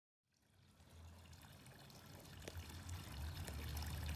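Water from a hose trickles steadily into a backyard swimming pool being filled during pool opening, a soft continuous stream that grows slightly louder over a few seconds, with no talking.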